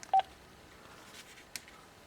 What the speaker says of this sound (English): all I would get is just a bunch of clicking on the telephone